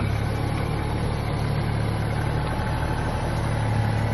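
A tractor hitched to a trailer runs with a steady, droning engine hum, constant and fairly close throughout without changes in pace.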